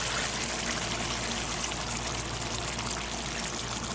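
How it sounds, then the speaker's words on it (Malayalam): First-press coconut milk pours in a steady, continuous stream into a mutton stew, a loud, close liquid rush that holds without pause and with no voice over it. "ഇനി ഇതിലേക്ക് ഒന്നാം പാൽ ചേർക്കാം"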